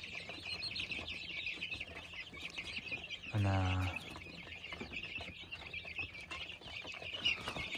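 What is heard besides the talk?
chicks and chickens clucking and chirping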